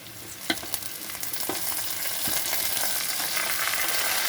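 Broccoli stirred into potato and papaya in a pan, with several sharp scraping strokes early on that give way to a steady, building sizzle.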